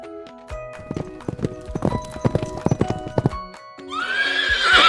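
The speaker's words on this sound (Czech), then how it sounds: "Tak to povídá kůň." A horse's hooves clip-clop in a quick, irregular run of hollow knocks, followed by a loud rising whinny at the end.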